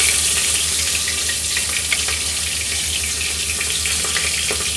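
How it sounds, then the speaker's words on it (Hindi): Cumin seeds sizzling in hot oil for a dal tadka, a dense continuous crackling hiss that stays loud and steady from start to finish with occasional sharper pops, and no talking. "अब देखिए तेल हमारा लगभग गर्म हो चुका है। तो अब हम इसमें जीरा डाल देंगे।"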